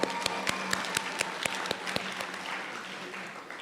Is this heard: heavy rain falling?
no